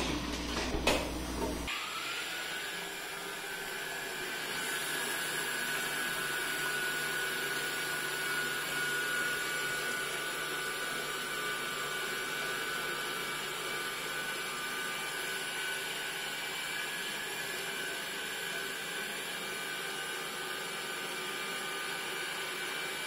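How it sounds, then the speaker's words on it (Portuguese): An electric mixer starts with a brief clatter, then settles into a steady, moderately loud motor whine for about twenty seconds as it beats whole eggs for acerola cake batter. "Vou colocar 2 primeiro, vou dar uma batidinha."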